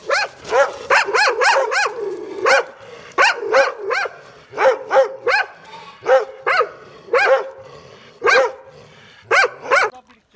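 A shepherd's dog barks at sheep in rural Turkish pastureland, a loud, close series of sharp repeated barks coming in quick bursts with short pauses, about twenty barks over ten seconds.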